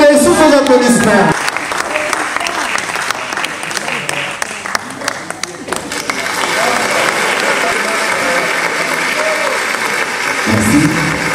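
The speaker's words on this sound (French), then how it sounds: "Maître Elombe, sous vos applaudissements" Audience applause at a Congolese film awards ceremony, a sustained wash of clapping from a crowd that follows a short burst of voice at the start, fades slightly, then swells again before a voice returns near the end.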